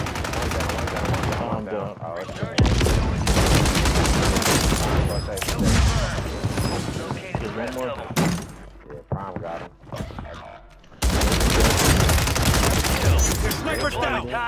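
Gunfire in Call of Duty Warzone on Rebirth Island: loud, rapid automatic bursts and heavy thumps fill most of the stretch, with a brief quieter gap midway, while players talk over the shooting.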